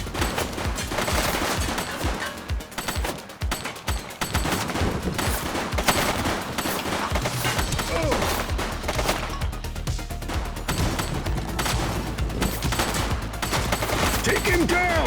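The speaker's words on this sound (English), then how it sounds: "He's running. He's shooting!" Gunfire from a fleeing suspect in the police game The Precinct: dense rapid bursts of shots, near and loud, rattling on and off over about fifteen seconds alongside other action noise and some speech.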